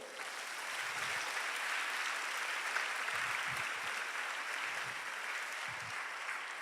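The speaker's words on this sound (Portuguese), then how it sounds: "Dê um aplauso ao Senhor." A church congregation applauds during a sermon with steady, even clapping that holds at one level throughout, moderately loud and filling the room with no voices over it.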